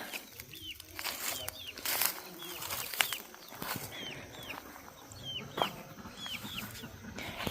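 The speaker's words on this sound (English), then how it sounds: "Check out the baby chicks." Chickens and baby chicks on a garden homestead cluck and chirp in repeated short calls over steady outdoor background noise, with a person talking nearby.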